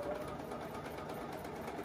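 A sewing machine with a quarter inch foot stitching quilt triangles, a steady rapid mechanical whir at a fairly quiet level, running alone without talk.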